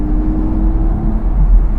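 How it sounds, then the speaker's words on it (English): Audi R8 V10 Performance Spyder's V10 engine, a steady low rumbling drone heard from inside the car, constant and fairly loud with no revving peaks. "every time I hear that V10 engine, so beautiful, such a beautiful sound"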